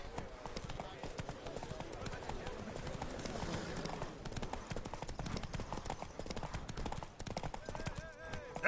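Hooves of Roach, the horse in The Witcher 3, clip-clop at a steady trot throughout, fairly faint and running under background game sound.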